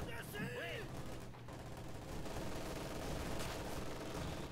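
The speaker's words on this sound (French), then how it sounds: "Ah la mitrailleuse." Machine gun fire in Company of Heroes 2, a continuous rattle of distant battlefield shots mixed with explosions, steady and moderately loud from start to finish.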